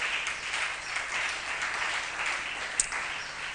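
A church congregation clapping their hands in acclamation of the Lord, a sustained wash of many hands clapping together in a large space, steady and moderately loud.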